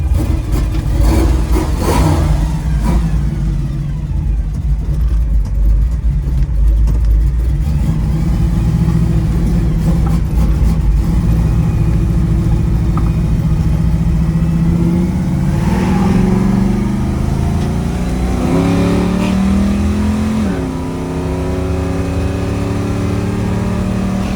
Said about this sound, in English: running car.